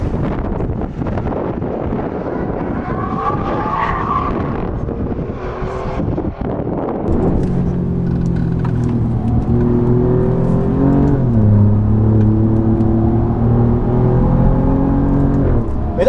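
An Alfa Romeo Giulia QV is thrown hard into a corner at the limit, its engine note rising and falling through the turn, loud and close inside the car with wind buffeting early on.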